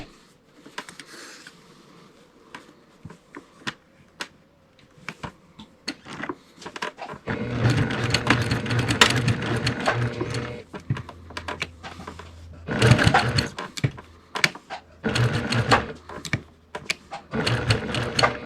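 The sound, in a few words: sewing machine stitching quilt appliqué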